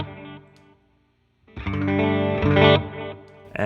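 Electric guitar played through a Black Bobbin boost pedal with the gain turned down for a fairly neutral tone, giving a few strummed chords with a pause, then a sustained, ringing strum, close and moderately loud with no talking.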